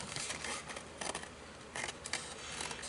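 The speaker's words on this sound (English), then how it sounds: "Then we can cut the side lines" Scissors cutting along printed lines on a paper chemistry model card, close crisp snips in short irregular bursts with brief pauses between cuts.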